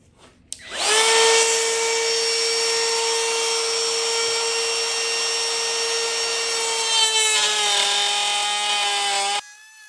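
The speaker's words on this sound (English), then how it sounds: "A straight edge to clamp to this, we can run the router and we'll cut out our dovetails" A handheld router runs along a clamped straight edge, cutting dovetails in wood: a loud, steady high-pitched whine that holds for about nine seconds, dips slightly in pitch near the end, then cuts off abruptly.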